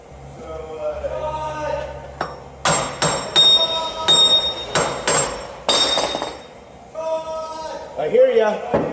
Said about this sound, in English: Gonna tap it with the hammer a little bit on each side.